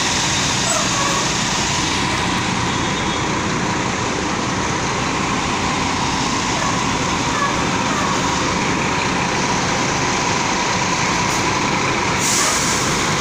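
Real Sul Vista Bus idling at a bus station, a loud, continuous diesel rumble with broadband hiss throughout and a brief sharper air brake release near the end.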